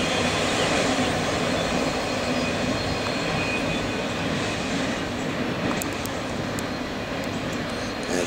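A Norfolk Southern intermodal freight train rumbles past eastbound at dawn near Glenvar on the Pocahontas Division, a loud, steady roar of wheels and cars with faint squeals, close and continuous throughout.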